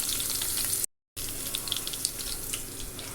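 Mustard seeds and curry leaves sizzle and crackle steadily in hot oil for sambar, a close, dense frying hiss with scattered pops, broken by a brief gap of silence.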